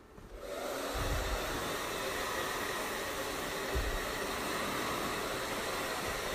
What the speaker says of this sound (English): when you start to move the hair around with the hair dryer